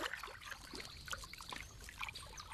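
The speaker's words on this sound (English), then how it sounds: "They test the waters for edibles with their paws." Raccoon paws dabbling and patting in shallow water, soft close trickles and small splashes in an irregular, continuous patter.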